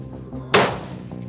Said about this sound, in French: Les premiers coups de feu retentissent.